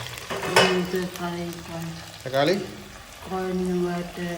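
Tomatoes tipped into a hot frying pan crackle and sizzle, with bursts of stirring as they hit the oil; a voice talks intermittently over the frying.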